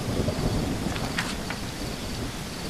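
Rain and thunder in a zombie survival video game, steady rainfall hiss with a low rumbling of thunder underneath and faint insect chirps, continuous and fairly quiet.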